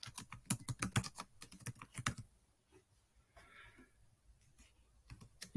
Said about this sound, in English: Double-click all the letters and type the name of your film.